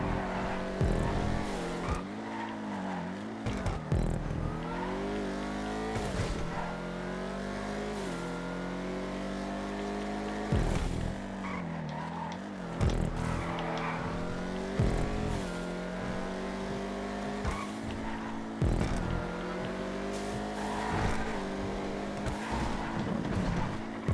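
Vigero muscle car engine in the GTA 5 racing game, revving and accelerating continuously with gear changes and occasional tire squeal, loud and close throughout.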